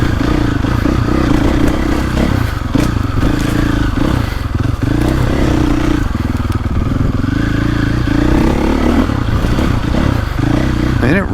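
A KTM 450 Factory Edition dirt bike's 450 four-stroke engine pulls steadily while riding, a loud, continuous thrumming drone with small rises in revs and occasional clatter and thumps.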